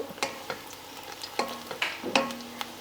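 Onions frying in a pan, with a steady close sizzle broken by several sharp clinks and scrapes of stirring.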